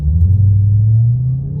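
Dodge Hellcat with an aftermarket exhaust giving a loud, deep low rumble, steady and close, briefly swelling then easing off, with no voices over it.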